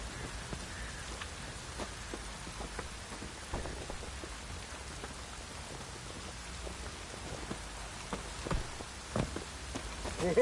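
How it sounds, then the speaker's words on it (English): Heavy rain pours down in The Witcher 3 video game, a dense, steady hiss of drops with faint patters, soft and continuous, with a few louder bumps near the end. "Proper downpour this is."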